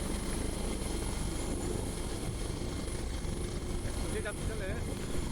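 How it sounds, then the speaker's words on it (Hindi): A helicopter taking off, its heavy rotor and engine roar loud and constant, with a faint voice briefly audible near the end. "देखिए इसका टेक ऑफ, हेलीकॉप्टर का टेक ऑफ।"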